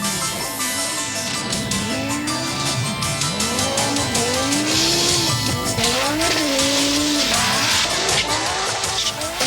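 An Audi Quattro rally car driven by Michèle Mouton slides through the turns at Pikes Peak with tires squealing, its engine loud and close as it revs hard, rising and falling in pitch throughout.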